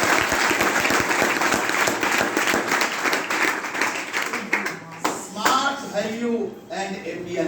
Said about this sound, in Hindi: तो ऐसे प्रोजेक्ट के लिए जरूर एक ताली होना चाहिए